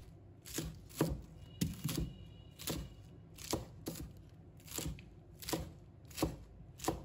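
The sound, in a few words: chopping Chinese cabbage into short pieces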